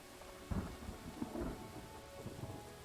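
Thunder rumbles over steady falling rain in a fantasy role-playing game, with a low roll swelling near the start and fading through the rest, all at moderate loudness without voices.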